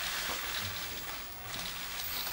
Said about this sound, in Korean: 제가 비를 뿌려드릴 테니까 우리 포즈 한번 잡아주시면 될 것 같습니다.